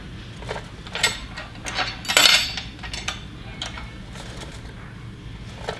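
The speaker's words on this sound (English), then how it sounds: "Operate the lock for the slide and slide it back and forth a few times, aligning the slides, and then all the way back and lock it." An Actimo seat slide on a Merritt Synergy wheelchair seat system is slid back and forth, giving repeated metallic clicks and rattles, then a sharper clack as it locks in place, heard up close.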